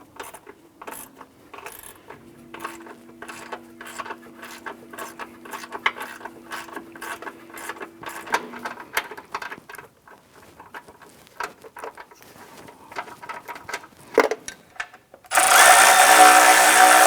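Ratchet clicking in quick repeated bursts as a bolt is tightened on a 2001-2005 Honda Civic engine during a camshaft seal job, close and fairly loud, ending in a louder burst of broadband noise.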